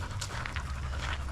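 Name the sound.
brindle pit bull dog panting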